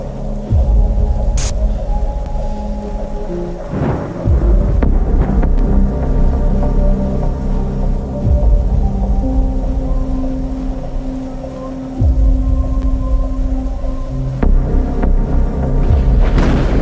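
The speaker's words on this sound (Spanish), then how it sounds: "con una fuerte tormenta de fondo acechándome" A heavy thunderstorm with steady rain roars as a dense, continuous low rumble, broken by a few deeper thunder swells. It stays loud and sustained throughout, with no voices.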